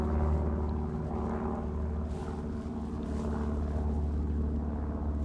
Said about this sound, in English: Maybe just let me give you the time to listen to the plane.